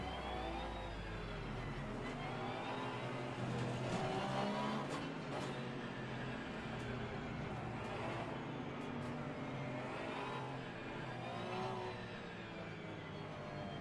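A Porsche 991 II race car engine in Assetto Corsa Competizione at Kyalami, roaring loudly and continuously as the revs rise and fall through gear changes, with faint tire noise mixed in.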